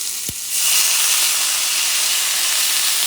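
Shrimp and noodles fry in a pan while being stirred, a loud, continuous sizzling hiss that swells after a brief clatter at the start and holds steady to the end.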